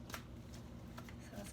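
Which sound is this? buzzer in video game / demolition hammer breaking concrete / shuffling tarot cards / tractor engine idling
shuffling tarot cards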